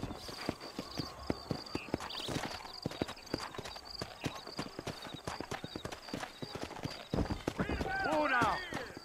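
Horse hooves clip-clop steadily and close while riding in the video game Red Dead Redemption, a brief whinny near the end, with faint background voices.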